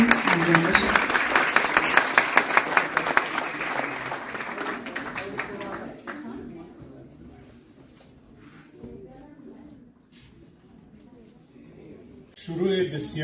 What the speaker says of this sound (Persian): لطفاً همه رو تشویق بفرمایید که مراسم انجام بشه